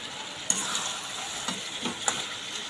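Chicken fries in a hot pan, a steady sizzle broken by a few scraping stirs of a spatula against the metal.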